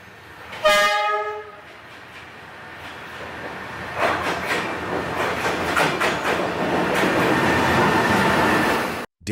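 A train sounds a loud, close horn blast on a rail line running through a city street, then rumbles past with building wheel noise and clatter that holds steady until it cuts off abruptly.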